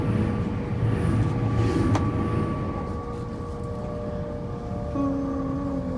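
A TransPennine Express train near York station, running from Redcar Central to Manchester Airport, rumbles steadily with a low drone and a faint high whine, with a brief sharper squeal partway through.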